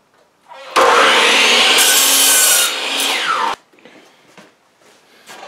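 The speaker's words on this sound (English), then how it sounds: "Go back to 0 degrees and just cut this off." Saw cutting off a piece of wood for a hunting blind build, a single loud, close rasping cut lasting about three seconds that ends abruptly, followed by faint knocks and handling noises.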